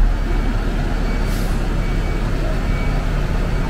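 Heavy trucks reverse onto a boat deck, a steady loud engine rumble filling the scene with a faint backup beeping and a brief hiss of air brakes, under distant outdoor voices.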